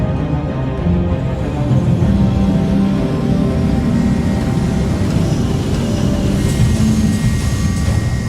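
A spacecraft comes in to land in the Squadron 42 video game, a loud, steady engine roar and rumble with a high whine that holds for several seconds without speech.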